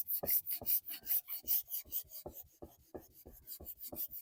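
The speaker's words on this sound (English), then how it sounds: "I'm going to give this just a little bit of scuff sanding." Rhythmic rasping strokes of 220-grit sandpaper scuff sanding a shiny top coat, quick back-and-forth passes close up, steady and fairly loud with no talking.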